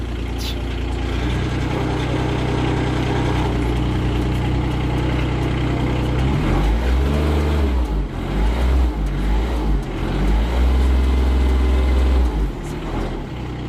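A diesel Shaktiman vehicle with its engine running, a loud, steady low rumble close by that swells and churns heavily partway through, with no talk over it.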